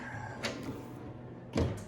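The bottom drawer of a Harbor Freight 12v tool cart slides open with a soft rolling rumble, ending in a louder knock as it stops, up close and without talk.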